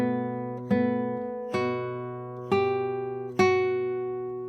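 A classical guitar plays the fifth and sixth measures of a waltz, a sequence of five clear plucked notes and chords at a gentle, even pace, each ringing and decaying into the next, close and unaccompanied.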